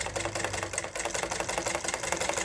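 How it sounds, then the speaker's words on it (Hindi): A sewing machine runs steadily in a sewing class, its needle mechanism producing a fast, even mechanical rattle close to the microphone for the whole stretch, with no voices. "उसके बाद आपको सिलाई मशीन को आगे चलाना है"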